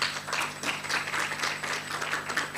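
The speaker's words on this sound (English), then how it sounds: "Can we give them a round of applause" Audience applause at a youth work indaba, moderately quiet and fairly distant, a rippling patter of claps that keeps going with uneven swells and no voices on top.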